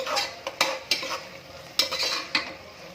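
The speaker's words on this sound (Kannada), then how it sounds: "ಈ ರೀತಿ ಶುಂಠಿ ಬೆಳ್ಳುಳ್ಳಿ ಪೇಸ್ಟ್ ಹಾಕೊಂಡು ಎಲ್ಲ ನೀಟಾಗಿ ಮಿಕ್ಸಪ್ ಮಾಡಬೇಕು." Ginger garlic paste frying in oil while a utensil stirs it in a pan for a spinach pulao, giving a steady close sizzle broken by sharp scraping clinks of the spoon against the pan, with no voices.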